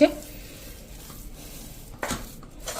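Flour mixed with melted jaggery being stirred in a pan for sukhdi, a soft continuous scraping with light sizzle and a couple of louder utensil scrapes against the metal.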